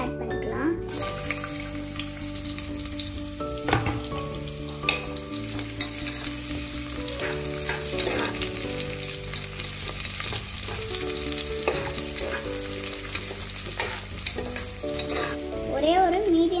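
Chopped onion, one medium size, sizzles steadily in a pan for vegetable rice, with scraping stirs and occasional clinks throughout. Soft tonal music plays beneath the frying.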